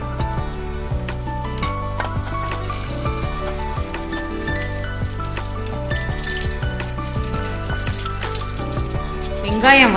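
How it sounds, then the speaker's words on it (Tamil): Small onions sautéing in oil in a kadai for a village-style mutton gravy, with a loud steady sizzle and crackle and occasional stirring taps, close by with no talk. "கடாயில் எண்ணெய் ஊற்றி சின்ன வெங்காயம் சேர்த்து வதக்கிக்கலாம்."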